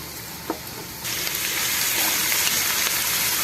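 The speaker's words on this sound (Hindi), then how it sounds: "प्याज जो है वो फ्राई हो रहा है" Thick-cut red onions sizzle in a hot pan, a quiet crackle that jumps to a loud, steady hiss about a second in and keeps going close up, with no talk.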